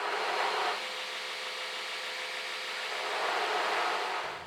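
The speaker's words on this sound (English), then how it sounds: "I'll grind a couple of mating faces using a small grinding wheel on my belt grinder" A small grinding wheel on a belt grinder shapes mating faces for a sword and knife straightening tool, giving a steady, even whirring grind for about four seconds that cuts off at the end.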